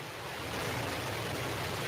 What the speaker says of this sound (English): We have ignition of our BE-3 engine.